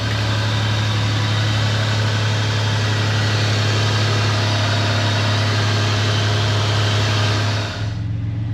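A classic car's twin-turbo engine idles at a dealership, a steady, loud low hum with a deep drone, holding constant before cutting off abruptly near the end.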